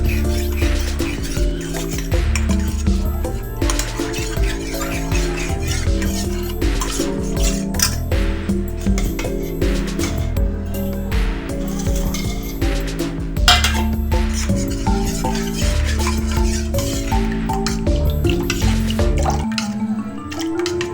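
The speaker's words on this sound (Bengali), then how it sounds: "এবার জল দিয়ে আমি গুলবো। ভালো করে গুলে নেবো।" Prawn cutlet batter being mixed with water in a bowl, with steady wet clinking and liquid dripping sounds from a utensil against the bowl, continuous and fairly close, with no talking.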